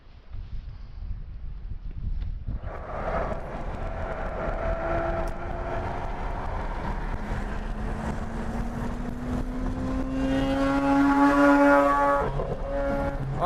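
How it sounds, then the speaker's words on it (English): A Mazda RX-8 driving past with a loud, steady engine drone whose pitch climbs as it accelerates, with wind rushing over the microphone and no talking. "RX-8 sounds great"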